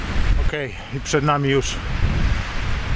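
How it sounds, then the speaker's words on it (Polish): Strong wind buffets the microphone with a low, rough rumble during a road-bike climb of the Karkonosze Pass. It runs under someone speaking briefly, then continues alone. "bo naprawdę straszny wiatr"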